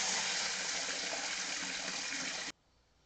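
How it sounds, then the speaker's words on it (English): Water gushes steadily into a mash bin for moonshine made from Jimmy Red corn, a loud continuous pour that cuts off abruptly near the end, leaving quiet. "Fill it full of water."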